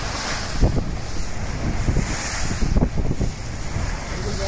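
Strong storm wind roars across the microphone aboard a Sargo 31 sailing yacht. Bursts of buffeting gusts rise and fall over a constant rushing background, with water sloshing nearby.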